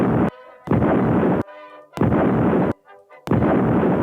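Video game TNT explosions from an old computer game, three loud booming blasts each lasting under a second with crackling decay, separated by short quieter gaps of other game sounds.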